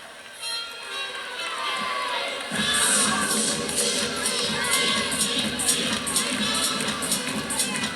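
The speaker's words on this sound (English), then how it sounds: "Love to see when the teammates are engaging in the floor routine, cheering their teammate on from the side" Teammates cheer and shout from the side during a women's college gymnastics floor routine, Oklahoma vs Auburn, a dense crowd roar that swells louder after a couple of seconds with excited high-pitched yells throughout.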